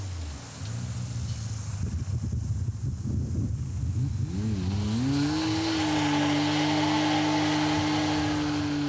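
A Nissan RB26 car engine roars loudly, first rough and sputtering, then revving up into a sustained high-pitched howl that holds steady to the end.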